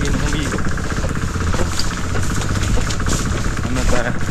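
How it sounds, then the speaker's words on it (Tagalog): A freshly repaired engine, its clogged part cleared, runs steadily at idle with a continuous low rumble and faint knocking vibration, close by, while voices talk over it outdoors. "Naayos na natin yung makina."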